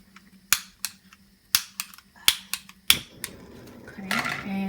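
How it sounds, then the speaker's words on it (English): A gas stove being lit for boiling water for coffee: a series of sharp igniter clicks, five or six close taps in an irregular rhythm, then a soft whoosh as the burner catches and a steady low flame hiss follows. "And now I'm going to light the gas."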